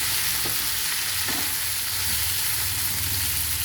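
Salted vegetables frying in a pan are stirred, giving a steady close sizzle with a few soft scraping stirs over about four seconds.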